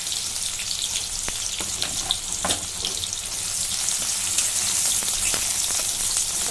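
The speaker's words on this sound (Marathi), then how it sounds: "भाजून घेते आता कांदा भाजून झालेला आहे" A medium onion fries in hot oil with cumin seeds for a green brinjal dish. The continuous crackling sizzle is peppered with sharp pops and spits, close and steady, with no voices.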